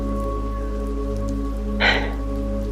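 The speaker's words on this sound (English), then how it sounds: "To really visualize this rain washing over us, cleansing" Steady rain falls on a surface, a soft continuous patter over a low hum. One brief louder splash or rustle stands out near the end.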